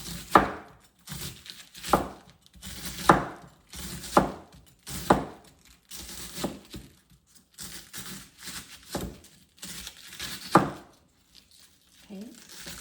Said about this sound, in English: Chop those into small slices.